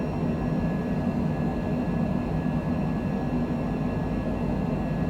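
An Air Canada airliner climbs out of Vancouver after takeoff in heavy rain, its engines a steady, loud, unbroken drone for the whole stretch with no one talking.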